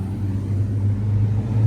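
McLaren P1 hypercar driving by in a Goodwood convoy, a steady low engine rumble with a slight rise as it nears, no voices.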